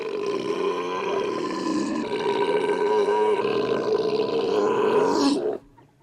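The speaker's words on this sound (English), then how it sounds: "The burp contest." A long, loud, rasping belch from the burping contest in the 1984 comedy Revenge of the Nerds, one sustained guttural roar lasting about five seconds before cutting off sharply.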